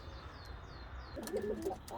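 White Arabian doves coo in a coop, with soft rolling coos coming near the end, preceded by quieter chirps and background hiss, fairly close and without talk.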